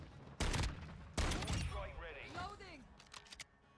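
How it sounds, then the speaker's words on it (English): Mortar strike in Call of Duty: Modern Warfare II, two heavy booming impacts in quick succession followed by scattered debris and crackling, with a voice in the background. "we got a mortar strike"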